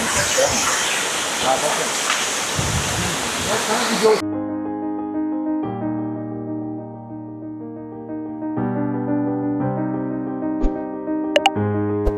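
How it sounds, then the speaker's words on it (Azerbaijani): Çayqovuşan waterfall in İsmayıllı, a broad rushing roar of falling water for about four seconds, after which the water gives way to steady tonal music. "bu da Çayqovuşan şəlaləsi"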